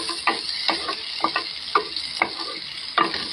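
Onions sauté in a pan with a constant hiss of sizzling, broken by about eight sharp spatula scrapes at a fairly regular pace, close up and with no talking.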